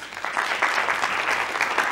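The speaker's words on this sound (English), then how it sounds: "let's give a word to Shahid round of applause" Steady audience applause at a seminar, a brief dense patter of many hands clapping at an even loudness.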